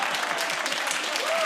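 Studio audience applause on a British topical comedy panel show, a dense, steady wash of many hands clapping at full strength throughout, with a faint voice rising near the end.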